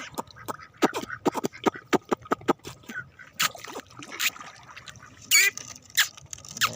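Ducks quack in a series of short, sharp calls, some close and loud, with splashing water between them and a person moving nearby.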